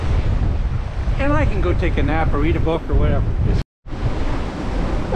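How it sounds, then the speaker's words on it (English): Gale wind and heavy seas while sailing the Bay of Biscay, with a constant loud roar of wind buffeting the microphone and waves rushing past the boat. Someone talks over it. "It's blowing out there, and those seas are from 2 to 4 meters."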